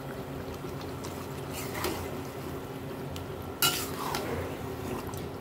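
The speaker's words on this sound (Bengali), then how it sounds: "এখন আমি দিয়ে দেবো এই যে বড় বড় করে কেটে রাখা পেঁয়াজগুলা।" Chopped onions going into a fish curry masala in a pan, with scattered clinks, scrapes and a sharp knock of a utensil against the pan over a low sizzle.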